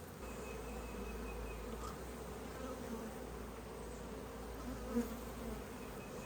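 A steady, low droning hum of many honeybees buzzing together around a hive frame with nectar coming in, continuous and fairly close, with no talking.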